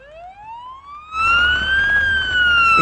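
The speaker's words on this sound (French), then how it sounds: "La sirène." An ambulance siren in a paramedic video game wails steadily, a long rising tone that swells louder partway through and holds over a low vehicle rumble.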